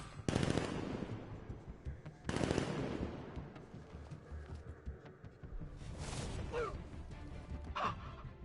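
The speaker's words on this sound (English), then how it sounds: "I'll shoot him down and see what happens." Bursts of automatic gunfire from the video game Batman: Arkham Knight, two loud sustained volleys near the start followed by quieter shots and crashes over a busy game soundscape.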